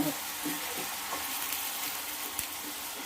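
Food is stirred in a hot pan to keep lumps from forming, giving a steady close sizzle with soft scraping and stirring clicks, alone without talk.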